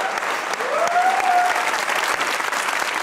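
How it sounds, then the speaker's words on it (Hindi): A crowd claps steadily and enthusiastically, a dense wash of applause throughout, with a faint whistle briefly rising over it. "आपने लिए तालियां बजाइए"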